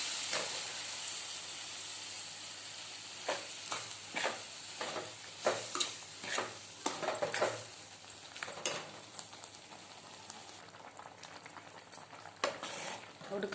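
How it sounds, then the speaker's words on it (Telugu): Tamarind curry simmering in a pan, giving a steady hiss with a run of bubbling pops and spoon stirs spread through the middle, moderately close and with no talking over it. "ఉడుకుతుందండి"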